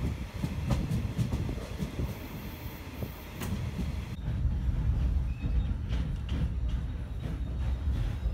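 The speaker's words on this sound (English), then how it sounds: "Shosholoza is a train, is the train from Joburg to Cape Town." The Shosholoza passenger train running from Johannesburg to Cape Town gives a steady, close rumble of rolling wagons with rhythmic wheel clatter throughout, and no talk.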